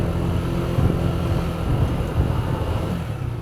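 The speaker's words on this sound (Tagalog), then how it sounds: "Daming sasakyan." Busy traffic of many cars and motorcycles on a mountain road near sunset, a continuous broad engine rumble and whoosh of passing vehicles, fairly loud and close, with no talk.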